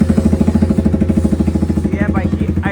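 A Jawa 42 Bobber with an uplift exhaust and its dB killers removed idles loudly up close, its engine thumping in a fast, even, rapid pulse throughout.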